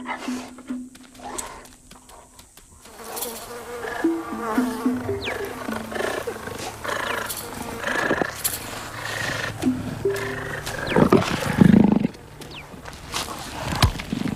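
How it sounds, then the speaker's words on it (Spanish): Cheetahs searching for each other give calls from the wild, mixed with insect buzzing and a steady outdoor hum; repeated short chirping and rough vocal bursts come and go at moderate distance throughout. "Cuando dos guepardos están perdidos y se están buscando mutuamente"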